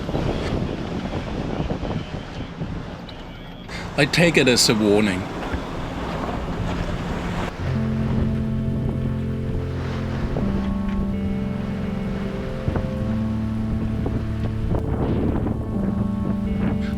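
Ocean waves surge and break over a shallow sandbank amid strong wind rushing past the microphone, with a low droning hum and someone speaking briefly.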